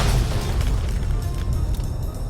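A deep, rumbling explosion in Fallout: New Vegas, loud and sustained with heavy low-end roar that stays steady throughout, with no speech over it.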